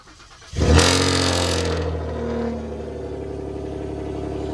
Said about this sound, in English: So let's give it a nice cold start since it's nice and cold.